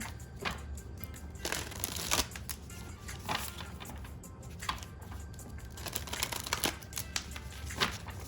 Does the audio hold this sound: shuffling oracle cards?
yes